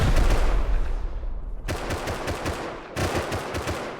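Automated turret in the video game Rust fires loud, dense bursts of rapid gunfire during a rocket raid, with two sharp restarts after brief lulls and no talk over it.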